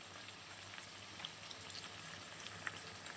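Cumin paste sizzling in a hot pan, a faint, steady crackle with scattered small pops throughout.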